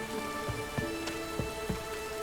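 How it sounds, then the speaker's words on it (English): Rain falling in The Witcher 3 video game, a soft steady patter with scattered drips and small thuds over a faint background hum. "Rain, I like rain."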